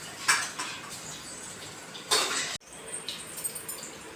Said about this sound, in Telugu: ఇంకో గిన్నెలకు తీసుకుంటాను వీటిని